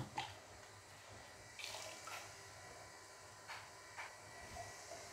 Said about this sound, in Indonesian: Kita bilas ya teman-teman.